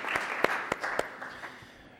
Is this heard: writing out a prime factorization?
no